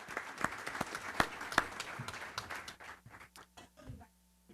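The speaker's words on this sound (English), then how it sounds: "Big round of applause." A room at a school district board meeting breaks into a round of applause, dense clapping that peaks early and then thins out and fades to near silence.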